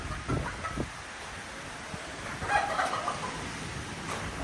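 Chickens clucking softly outdoors, a few scattered calls at a moderate distance over wind and background noise.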